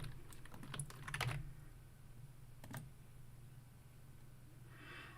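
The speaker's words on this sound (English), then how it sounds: "I'll type it in the chat." Fingers tap a computer keyboard to type a chat message: faint, close clusters of quick key clicks in two short bursts, then near quiet.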